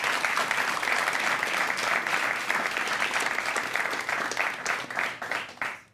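Audience applause at a university quiz-style event, a dense, loud burst of many hands clapping that carries steadily for several seconds before fading out at the end.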